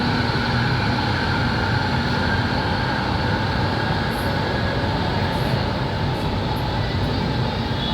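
An MRT metro train passing, a loud continuous roar and rumble that holds steady and close throughout with no talking.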